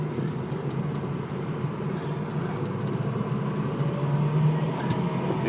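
A 2006 Ford F250 diesel 4x4 pickup drives along with a steady low engine drone and road rumble from inside the cab, continuous and fairly even throughout.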